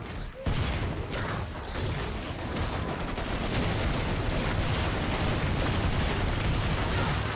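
Grenade blasts and heavy gunfire from the shooter game Killing Floor 2 form a dense, loud, unbroken wall of rapid shots and explosions after a brief opening moment.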